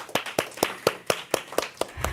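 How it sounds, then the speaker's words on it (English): A few people clap steadily for a guest speaker at a church gathering, with sharp, evenly paced claps close by and no talk. "Let's give her a round of applause."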